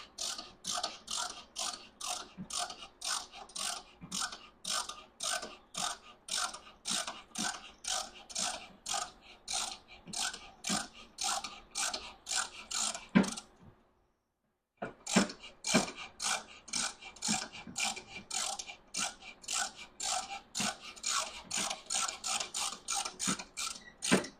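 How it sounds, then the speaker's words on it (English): A Harbor Freight ratchet tap turning in a thread during cam replacement work on a 2005 Mustang GT gives steady rapid ratcheting clicks, close and clear, pausing briefly midway before the clicking resumes at the same pace. "this is just a ratchet tap from Harbor Freight"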